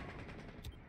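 Gunfire in Rainbow Six Siege comes as a fast burst of rapid automatic shots, loud and close, packed into a single second.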